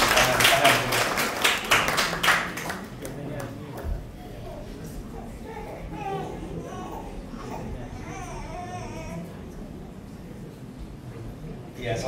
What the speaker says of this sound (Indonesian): Boleh tepuk tangan nggak apa-apa?